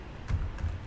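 Keys tapped on a computer keyboard while typing a new cell name into a spreadsheet's name box, a brief pair of soft, close clicks.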